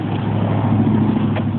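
A 1980 Ford F100 pickup's engine rumbles close and loud in a steady, even drone, with no voices over it.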